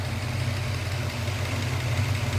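A car engine fitted with a new camshaft idles steadily up close, with a deep, even rumble and a slightly lumpy, choppy pulse.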